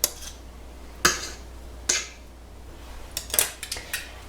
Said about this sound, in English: Now I take a knife and scrape off the bottom.